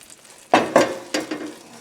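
Mushrooms sautéing in plenty of butter, with a few quick spoon or spatula stirs clattering against the pan over a light sizzle, close up.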